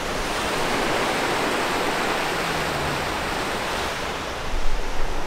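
Ocean waves crash along the coast near Bimmah Sinkhole in Oman, a loud continuous roar of surf with a stronger surge near the end. No voices are present.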